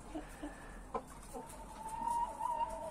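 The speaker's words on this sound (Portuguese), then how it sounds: "são essas três galinhas aí, ó" Hens on a farm, including a large young black hen, making soft scattered clucks and a brief higher call, faint and fairly distant over quiet background noise.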